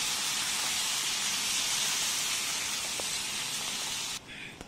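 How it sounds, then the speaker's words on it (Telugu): Tomato thokku boiling in a covered pan on a medium flame, a loud steady hiss of bubbling and steam that runs continuously, then drops off sharply near the end. "ఇలా బాయిల్ అవుతూ ఉంటుంది"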